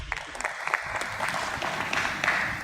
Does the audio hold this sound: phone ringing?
no